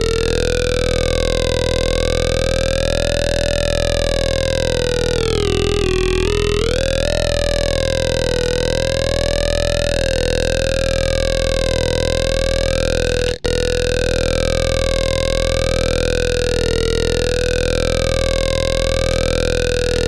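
A synthesizer drone with a formant filter sweeping through vowel-like shapes, continuous and loud, its tone wobbling between ah, oh and ee colors.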